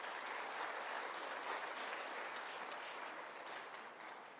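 A lecture-hall audience at a memorial lecture applauds to thank someone, a steady wash of clapping held at a faint, distant level throughout.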